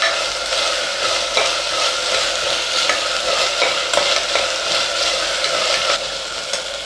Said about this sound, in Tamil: இந்த பச்சை ஸ்மெல் போகிற வரையும் நல்லா வதக்கிப்போம்.